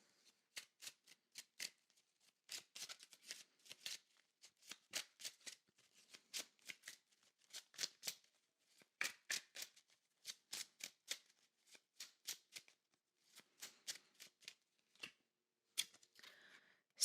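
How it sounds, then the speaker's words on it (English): A deck of tarot cards being shuffled in quick riffling bursts, about two dozen sharp crisp flutters in an uneven rhythm, close and fairly quiet with no talking. "Let's pull some tarot, shall we?"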